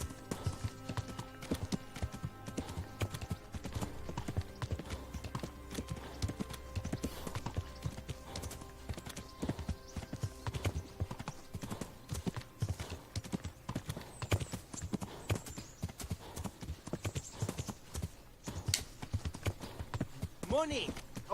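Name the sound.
horse hooves while riding in video game Kingdom Come: Deliverance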